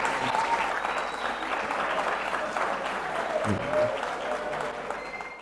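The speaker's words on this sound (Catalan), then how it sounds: "un fort aplaudiment, per favor," Strong, sustained applause for the jury rolls through a hall at a school anniversary event, with many hands clapping evenly and a faint murmur of voices underneath before it tapers slightly at the end.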